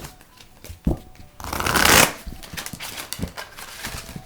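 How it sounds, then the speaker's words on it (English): Chakra Insight oracle cards are riffled and shuffled, with a few short taps before a loud burst of rapid riffling, then softer shuffling and handling. "that one didn't want to back shuffle at all"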